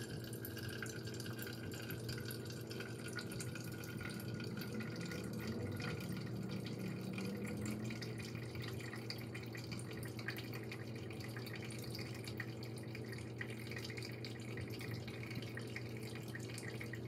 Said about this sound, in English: We're going to see how quickly this old filter fills up a, I don't know, a cup